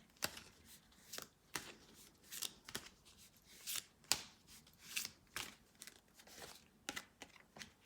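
Tarot cards being shuffled and pulled from the deck, a steady run of crisp riffling and flicking bursts, close and fairly quiet, with no talk.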